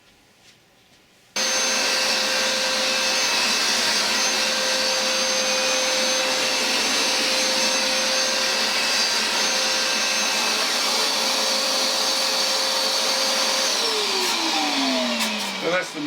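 A Hoover SmartWash+ carpet shampooer starts abruptly and runs loud and steady, a whining suction motor hum that holds for about fourteen seconds before winding down, with no talk over it.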